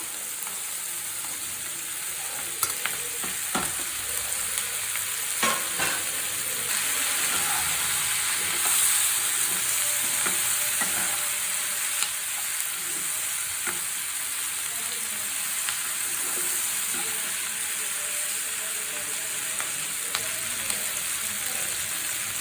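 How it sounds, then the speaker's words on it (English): Vegetables and paneer fry in a kadai pan for a kadai paneer dish, with a steady hissing sizzle broken by occasional sharp stirring clicks and scrapes, close and unbroken throughout. "you can see the veggies have been fried. We'll add the paneer also."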